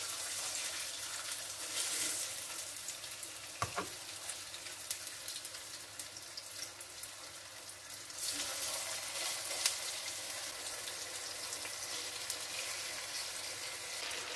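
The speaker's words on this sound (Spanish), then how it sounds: "Entonces podemos poner a freír las pechugas." Chicken breasts frying in hot olive oil in a pan, a steady broadband sizzle that swells after a brief clatter near the start and holds at moderate, close level with no talk.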